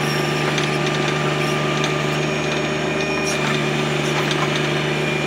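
A small engine powering a backhoe runs steadily at about 3,000 RPM, a constant close drone with faint clicks and taps over it.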